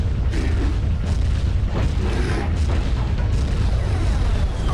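Mortar explosions from the video game Turok 2: Seeds of Evil, heavy low rumbling booms that roll into one another in a loud, continuous barrage with a few sharper bursts on top.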